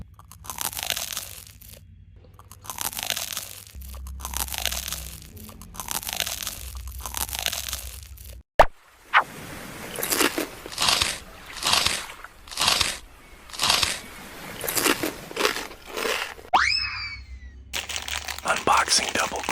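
Crunchy snacks such as Super Ring rings, chocolate dates and KitKat are bitten and chewed up close, with repeated crisp crunches in a steady rhythm, a sharp crack partway through and brief rustles between bites.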